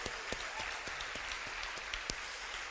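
An audience at the 2013 London Poetry Slam Finals applauds a poet, producing steady, fairly soft clapping across the whole stretch with a few sharper individual claps standing out.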